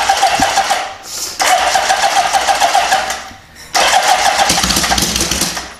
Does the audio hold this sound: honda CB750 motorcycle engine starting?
yes